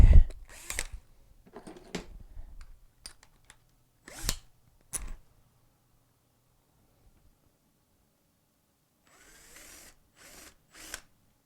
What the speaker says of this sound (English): Do a little countersink.